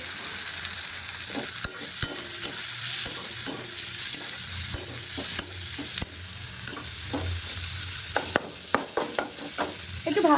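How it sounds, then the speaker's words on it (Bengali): Chopped ginger, onion and garlic with spices fry in a pan, a steady sizzle broken by frequent sharp scrapes and clatters as the mixture is stirred, close and fairly loud, with no talking. "একটু ভালো করেই ভাজবো"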